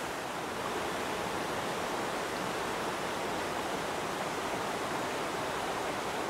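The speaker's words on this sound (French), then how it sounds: "C'est le départ d'une cascade." Heavy cascade at Le Bout du Monde, Sixt-Fer-à-Cheval, pouring in an unbroken, loud, close hiss and roar of water that holds steady throughout without talk.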